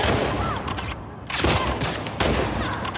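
Loud shotgun blasts in the video game The Last of Us Part II come from a gun with no scope, dense booming bursts packed close together with little quiet between them.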